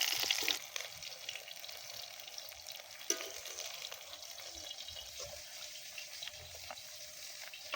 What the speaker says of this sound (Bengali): আমি এবার আলুগুলো ভেজে নিচ্ছি